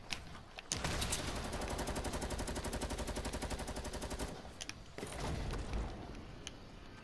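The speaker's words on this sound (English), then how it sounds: "They're shooting their things." Rapid automatic gunfire in a Fortnite 50 v 50 match rattles in one long, loud, steady burst, then stops and a shorter, rougher stretch of game noise follows.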